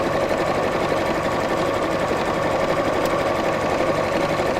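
A sewing machine hums and clatters continuously at a steady rapid pace, close and fairly loud, with no talking.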